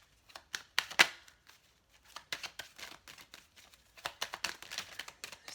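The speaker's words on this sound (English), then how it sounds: "the cards just feel so hard to shuffle" Tarot cards are shuffled in quick bursts of crisp riffling and flapping, with short pauses between rounds.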